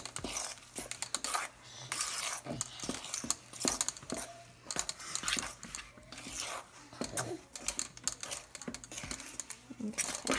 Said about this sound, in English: So you pour that in and you stir it up until it's just combined.